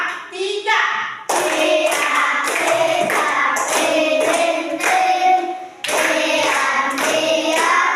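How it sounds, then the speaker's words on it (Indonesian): A classroom group claps hands in rhythm to the children's song Cicak-cicak di dinding, crisp synchronized bursts of claps in repeating phrases with brief gaps between them, loud and close. "Cicak-cicak di dinding tapi memakai tepuk tangan"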